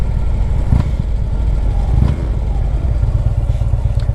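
A 2010 Harley-Davidson Ultra Limited rumbles along on a test ride, its engine loud and close with a steady throbbing note and a brief dip or two as it shifts gears.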